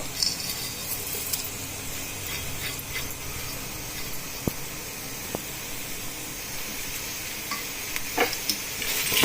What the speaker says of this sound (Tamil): எல்லாத்தையும் சேர்த்து நல்லா வதக்கிடலாம்.